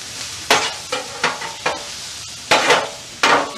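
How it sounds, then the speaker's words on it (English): Onions and peppers sizzle on a flat top griddle under a steady frying hiss. Six or so sharp spatula scrapes and stirs break through at irregular intervals, close and fairly loud. "Now we got a nice little sizzle going."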